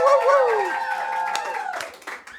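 Clapping for a podcast guest, mixed with loud whooping cheers and voices from a small group in the studio, lasting a couple of seconds.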